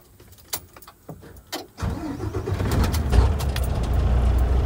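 A semi truck's engine cranks and catches after a few clicks and jangling keys, then settles into a loud, steady diesel idle.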